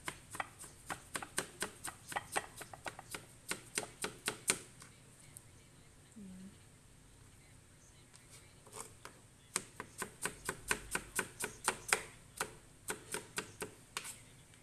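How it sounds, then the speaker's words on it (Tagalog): Kitchen knife slicing food super thin on a cutting board while cooking dinner at home: quick runs of crisp, evenly spaced chops, near and fairly loud, pausing briefly before another rapid burst. "slice lang natin ng super, super thin"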